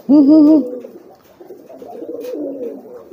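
A pigeon coos close by in courtship, a loud rolling call followed by softer, drawn-out cooing murmurs.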